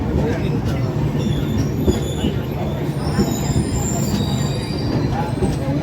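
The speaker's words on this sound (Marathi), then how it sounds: "ही बघा आपली आता दिवा ट्रेन येलेली आहे" A Diva commuter train pulls into a station on the Mumbai suburban line bound for Dombivli, with a continuous close rumble of wheels and carriages and faint metallic squeals over a crowded platform.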